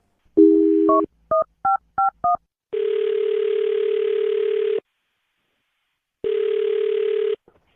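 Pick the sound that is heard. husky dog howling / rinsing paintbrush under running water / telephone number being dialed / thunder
telephone number being dialed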